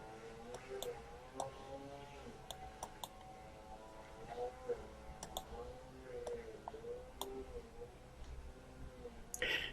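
Sharp computer mouse clicks, a handful of crisp isolated taps spaced irregularly over quiet room tone and a faint background hum, close to the microphone.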